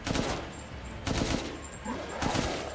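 Gunfire from a weapon in Resident Evil Village, in three loud bursts of rapid shots spread evenly across the stretch, each burst set against a dense, noisy game background.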